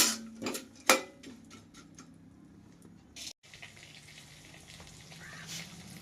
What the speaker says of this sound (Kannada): ನೆಕ್ಸ್ಟು ಬದಾಮ್ ಇದನ್ನು ಚೆನ್ನಾಗಿ ತುಪ್ಪದಲ್ಲೇ ಸಣ್ಣ ಉರಿಟ್ಕೊಂಡು ಚೆನ್ನಾಗಿ ಇದನ್ನು ಕೂಡ ಕಂದು ಬಣ್ಣ ಬರುವವರೆಗೆ ಇದನ್ನು ಕೂಡ ಫ್ರೈ ಮಾಡ್ಕೋಬೇಕು